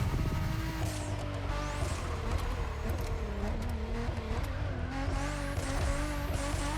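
A 2017 Ford GT hypercar in the racing game The Crew Motorfest roars continuously under hard throttle, engine pitch climbing and dropping through gear shifts with occasional tire squeal over a dense, loud mix.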